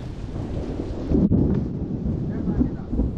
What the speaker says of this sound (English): Fucking thunder's going fucking crazy.